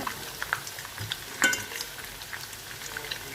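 Cauliflower pieces fry in a pan, giving a continuous close sizzle and crackle with a few light scrapes and taps as they are turned.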